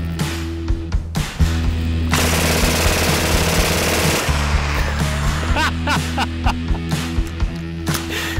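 A Soviet PPSh-41 submachine gun empties a full magazine in one long, rapid, loud burst lasting about two seconds, followed by scattered clinks, shuffling and voices in the aftermath.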